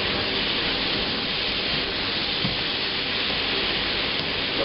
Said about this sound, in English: we're just going to stir this round until the spices are kind of nicely frying and colouring the meat